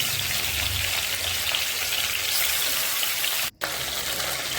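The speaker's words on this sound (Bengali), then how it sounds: "এইভাবে সব মাছগুলো ভেজে নিলাম।" Fish frying in a pan, cooked before going into a dish with potatoes, make a loud, continuous crackling sizzle with a short break near the end and no one talking.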